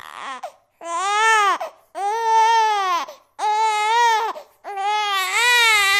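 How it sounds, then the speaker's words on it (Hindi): A baby cries in four loud, drawn-out wails with brief gasping pauses between them, heard close and on its own in a home setting. "बबुआ की रोने की आवाज सुन नीलू और नीलिमा की आंखें खुल जाती हैं।"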